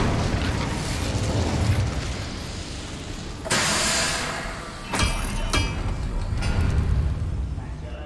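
Incendio fire spell cast in Hogwarts Legacy: a sustained roaring whoosh of flame with two sharp bursts midway, loud and dense over game ambience.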